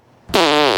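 A loud, buzzy fart lasting about half a second, starting abruptly after a brief quiet moment and holding steady to the end, with no talking over it.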